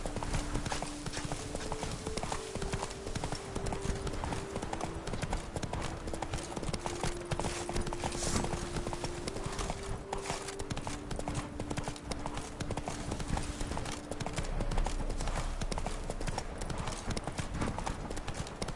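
Roach, the horse in The Witcher 3, gallops in a dense, continuous clip-clop of hooves. The sound is loud and steady with a faint low tone running under it and no talk.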